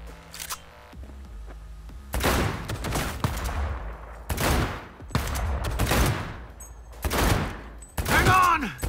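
Gunfire in Cyberpunk 2077: repeated loud bursts of shots in irregular volleys, with short gaps between them and a sharp ringing burst near the end.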